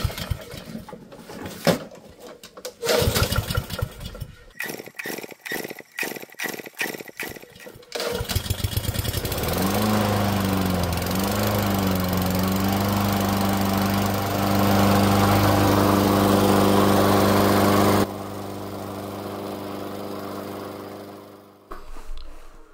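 A cold Honda GCV160 engine on a Husqvarna rear-wheel-drive lawn mower rattles through several pull-cord attempts. It then catches and settles into a loud, steady running drone that drops away near the end.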